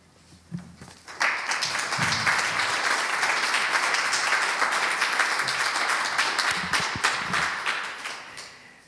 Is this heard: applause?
yes